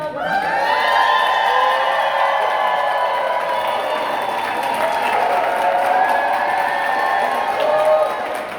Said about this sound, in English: And the rest of you, cheer, yell, whatever.